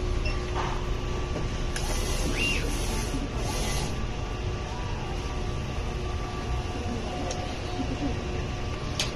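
A printer running a nozzle check after head cleaning gives off a steady mechanical hum and whir with a few brief higher whines, heard over constant room noise.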